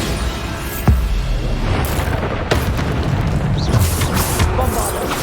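Bombarda blasting spell explosions in the video game Hogwarts Legacy, a few sharp booming blasts standing out over a loud continuous combat rumble, with voices heard between them.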